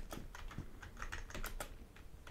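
Close, crisp key clicks from a Piranha RGB gaming keyboard being typed on in short irregular bursts, quiet and without talk.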